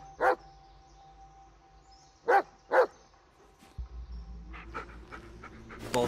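A dog in the Blair Witch video game gives a few short, loud barks or yips, two of them close together, and then quieter sniffing and panting sounds follow over a low rumble.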